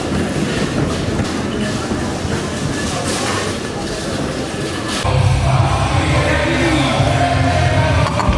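Lyon metro train interior, a steady loud rumble of rail running with rolling rattle that shifts to a heavier low drone partway through, with faint crowd voices in the background.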